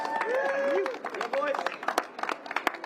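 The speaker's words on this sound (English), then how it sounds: "Big round of applause." A crowd at the Broken Arrow Vertical Race, a 2023 WMRA World Cup mountain running event, claps and cheers, with excited voices whooping over scattered clapping that grows sharper and more broken toward the end.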